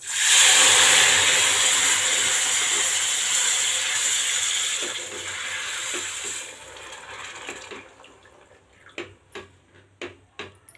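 Boiled milk poured into semolina roasted in ghee, a loud hissing sizzle that fades over several seconds into stirring, then sharp scraping and tapping of a spoon in the pan near the end.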